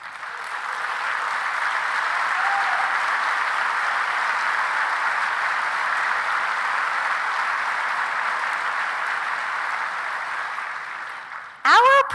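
A gala audience applauds local directors and team leaders as they stand, producing sustained, even clapping for about eleven seconds before it ends abruptly with a short, louder sound.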